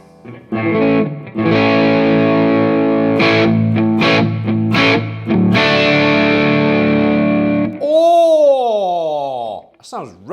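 Electric guitar on its neck pickup played through a Laney Lionheart L20H amp, a loud, distorted run of sustained chords and notes for about eight seconds, then a few bent, wailing notes that trail off.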